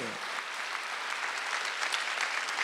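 During a Sunday worship service at a Korean church, the congregation claps steadily, a soft but continuous mass of hand claps heard at moderate distance and even level.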